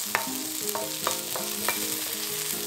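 Onion, green onion and minced garlic stir-frying in a pan, with steady close sizzling and repeated scraping stirs of a utensil, no voices.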